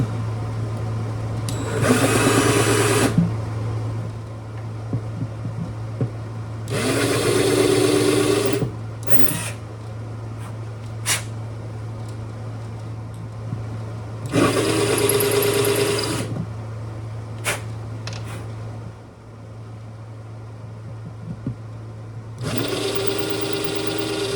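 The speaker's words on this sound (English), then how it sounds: "now I got to put a little bit of a chamfer on each of these holes" Chamfering holes in a bridge during restoration of a 1943 Martin D18 guitar: four separate bursts of a whirring rotary tool, each a few seconds long, spaced by pauses over a constant low electrical hum, close and moderately loud.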